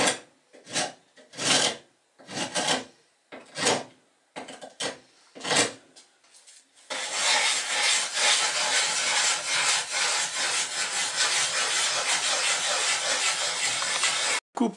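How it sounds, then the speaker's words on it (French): A spokeshave or hand plane shaving the wooden deck edges of a toy boat, first in short separate strokes, then in a long continuous rasp, close and clear. "Tu rabotes au vastringue ou au rabot les bords du pont."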